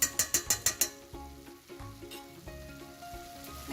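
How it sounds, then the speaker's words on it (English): Mince frying on a medium flame, a quick run of six sharp taps on the pan, then a low steady sizzle with occasional soft stirring, near and fairly quiet. "Fry it on medium flame."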